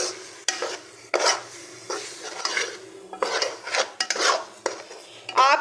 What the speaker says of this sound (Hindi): हल्के हाथों से आपने इसको अच्छी तरह भूनना है